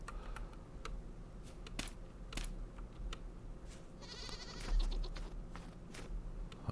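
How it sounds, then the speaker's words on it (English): Goats bleat in a survival multiplayer game, several short cries scattered over steady background game ambience, moderately faint with no talking. "These goats are not chill at all."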